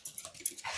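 Dog playing outdoors in a snowy yard, a brief burst of close panting and soft whimpering breaths, faint and short.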